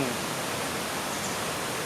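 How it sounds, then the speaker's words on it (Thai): Steady broadband rush of water at Kra Ang waterfall beside a campsite, a constant close hiss with no breaks and no voices. "เดินลงมาถึงตรงน้ำตกกระอ่างแล้วนะครับ"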